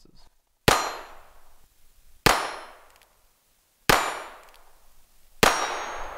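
Four sharp, loud metallic clangs spaced about a second and a half apart, each ringing out and fading, as .50 BMG rounds from a GM6 Lynx rifle strike a steel target; no talking.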